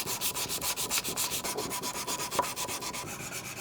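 A Damascus steel Bowie knife blade is hand sanded to remove scratches, with quick, even back-and-forth rasping strokes repeating rhythmically up close.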